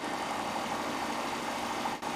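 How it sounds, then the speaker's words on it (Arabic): A homemade Stirling engine on a wheel runs freely after its clutch is released, a steady whirring drone that holds close and loud for the whole stretch and dips briefly near the end. "الموتور سرعته بتزيد بسرعة جدا لحد ما بتعدي 800 لفة في الدقيقة"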